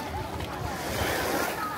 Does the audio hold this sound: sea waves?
yes